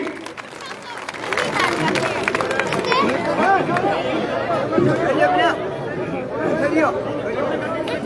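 A village crowd at a BJP candidate's welcome event in Malkheda applauds the introduction of a former Rajasthan government minister, steady clapping blended with loud chatter and babble throughout.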